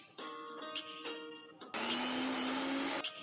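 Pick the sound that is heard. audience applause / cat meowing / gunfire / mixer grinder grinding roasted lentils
mixer grinder grinding roasted lentils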